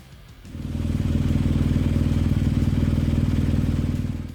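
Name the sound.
BMW R1200 GS Adventure motorcycle engine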